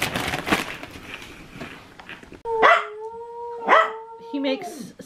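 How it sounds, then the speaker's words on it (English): A dog barks in a home kitchen at chicken taken from an Instant Pot; a person talks first, then loud, drawn-out barks and howl-like yowls ring out close by. "He's in there barking at the chicken that I took out of the Instapot."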